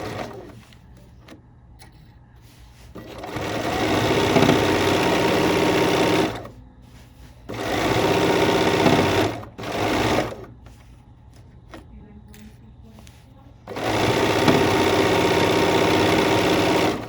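A Bernina 535 sewing machine stitches a long quilt seam for sashing. Its motor whirs up in several long, even bursts, with short stops and quieter gaps between runs.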